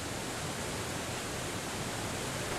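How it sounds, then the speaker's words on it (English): Steady roaring rush of the Marmore Falls in Italy, a 165-metre waterfall where the Velino stream drops into the Nera River, a dense unbroken wash of water noise with no voices. "The Marmore Falls, one of the highest waterfalls in Europe"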